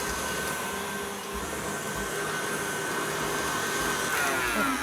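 A stand mixer beats dairy-free vanilla buttercream, a steady, loud motor whir with a constant mechanical hum that holds without pause throughout.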